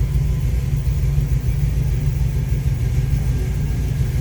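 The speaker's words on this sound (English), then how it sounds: "Car idles nice, sounds great." A 1972 Dodge Challenger Rallye engine idles steadily with a deep, throaty rumble and slight lope, loud and close, with no other sounds.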